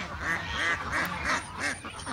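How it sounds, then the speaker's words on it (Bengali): Ducks quacking repeatedly while feeding on rice bran mixed with cooked rice, a rhythmic chorus of nasal quacks close by, several birds overlapping. "আপনারা দেখতে পাচ্ছেন হাঁসগুলো কুড়া খাচ্ছে"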